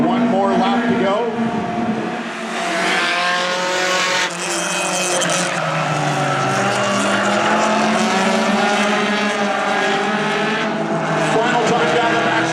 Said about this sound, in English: Final time down the back stretch through turns 3 and 4.